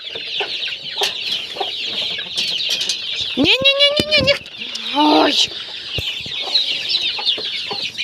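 Chickens and a cheeky young rooster in a village yard at dusk cluck and squawk close by, with one loud burst of calling in the middle, while someone speaks between the calls.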